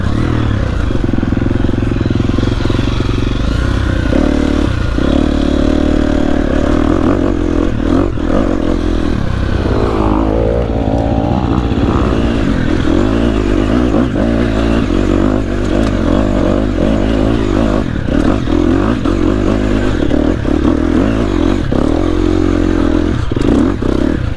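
A motorcycle is ridden with a loud continuous engine drone, rough rumble and clattering vibration throughout, with wind noise and no clear talk.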